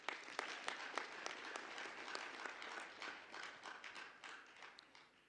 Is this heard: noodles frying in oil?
no